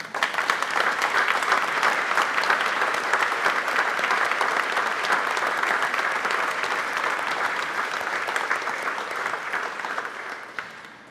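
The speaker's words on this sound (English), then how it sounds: "give that man a round of applause" A church congregation gives a sustained round of applause during an Easter Mass, a thick, even wash of many hands clapping for about eleven seconds, fading slightly toward the close.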